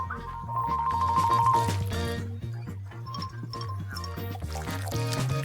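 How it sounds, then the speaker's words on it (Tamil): Chocolate drink poured from a shaker into a cup, a steady close liquid stream with light clinks, set against a busy background of music. "அதை கோப்பையில ஊற்றுகிறோம்."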